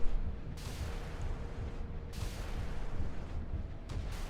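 Missiles launching in the naval combat game Sea Power, a continuous rumbling roar swelling in repeated broadband whooshes, several launches overlapping close and loud with no talk.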